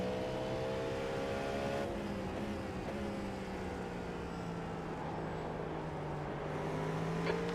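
A Cadillac LMDH prototype in iRacing holds a strong, continuous engine tone at the Glen 6-hour event, the pitch rising and falling through gear changes over a steady loud drone.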